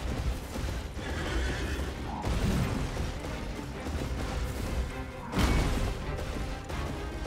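Elden Ring gameplay carries a horse's neigh among the game sounds, then a loud crash-like burst near the end, with a steady rumble running underneath.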